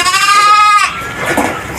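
Goats and sheep on a meat-livestock farm give a loud, close, wavering bleat lasting nearly a second, followed by quieter overlapping calls from other animals, with no talking.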